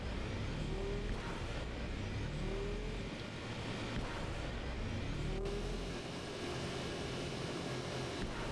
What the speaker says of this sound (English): This particular pitch of the engine noise is quite irritating.